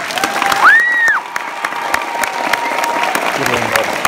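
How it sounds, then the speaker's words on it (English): Concert audience at a choir concert applauding loudly, dense continuous clapping with some cheering and a shrill whistle early on, crowd noise filling the hall throughout. "If we applaud loud enough, they might know it's for them."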